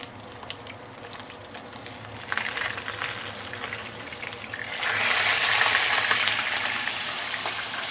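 Fish sizzles in a hot pan, a steady frying hiss that grows louder and fuller partway through as the oil crackles more intensely.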